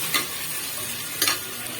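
Chopped onions sauté in hot oil in a home kitchen, a steady soft sizzle broken by two brief stirring scrapes, close and with no talk.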